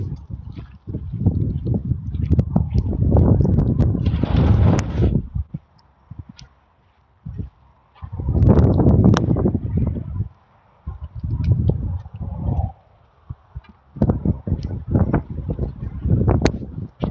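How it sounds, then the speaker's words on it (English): Gusts of wind buffet the microphone in rumbling bursts that rise and fall, separated by calmer moments. "It's windy now."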